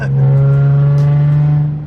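Exhaust of a Nissan Z with a VQ engine, a loud, close, steady droning tone held throughout with a strong low hum and a slight fade at the end.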